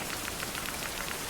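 Rain falls continuously in the 16th-century survival video game Survival: Fountain of Youth, a dense, steady patter of drops on surfaces with no voices over it.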